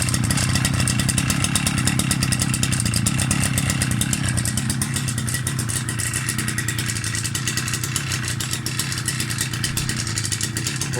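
A small petrol engine, started without the choke, runs steadily as it warms up, a loud, close, continuous buzzing drone with a fast rattling pulse that holds for the whole stretch.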